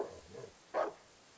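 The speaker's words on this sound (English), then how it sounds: "That doesn't sound like happy barks." A dog barks once in the dark survival horror game Darkwood, a single short bark after a faint low murmur, somewhat distant and alone.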